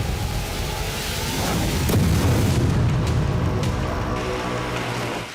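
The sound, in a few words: explosions from Russian strikes on Ukrainian cities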